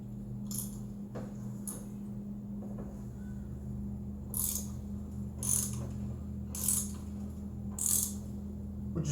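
A ratchet wrench clicks as it turns a Helicoil thread tap into a damaged spark plug hole, with short bursts of rapid clicking repeated several times over a steady low hum.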